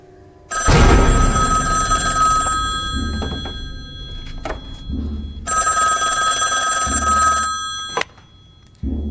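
A telephone bell rings loudly in two long bursts separated by a pause, each followed by a soft thunk, before the line is picked up.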